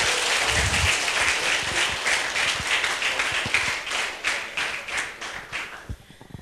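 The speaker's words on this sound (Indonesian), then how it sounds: "Ayo tepuk tangan." Applause from the crowd at a company's tenth-anniversary celebration, a busy patter of many hands that thins toward the end into scattered claps and a few thumps, with no voices.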